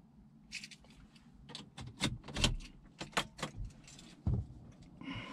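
The standard metal key of a 2020 Kia Stonic jangling and clicking in hand, a quick series of sharp, close metallic taps and rattles with short pauses between them, fairly quiet.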